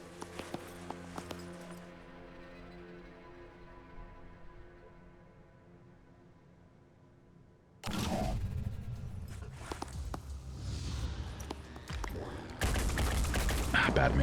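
Gunfire in the tactical video game Phoenix Point erupts as several bursts of shots after a quiet stretch of sustained musical tones, loud and dense toward the end.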